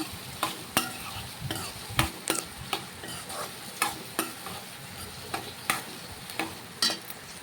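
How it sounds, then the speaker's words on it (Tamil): Ivy gourd sizzles gently in hot oil while a spoon stirs and scrapes the pan in steady, repeated strokes, with no talking. "போட்டு நல்லா ஆயிலே நல்லா வதக்கிக்கோங்க"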